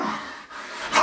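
A dog barks once or twice in a room, a short harsh bark ending in a louder, sharper burst, close to the listener with no talk over it.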